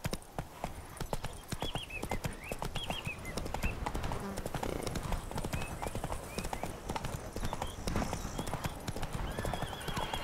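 A horse gallops in The Witcher 3 video game, with rapid hoof clip-clops throughout, brief whinnies and a rider urging it on.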